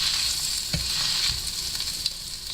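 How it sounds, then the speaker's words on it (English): Marinated steak in salt and sweet sauce frying in a pan, giving a steady close sizzle with a few soft stirring clicks, no talking. "It's gonna start sizzling up."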